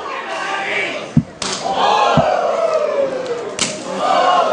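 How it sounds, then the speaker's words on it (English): Two sharp, loud thuds of wrestling chops landing at a live independent pro wrestling show, with crowd noise and an excited commentator talking between the hits. "It's not even a smack, it's a thud."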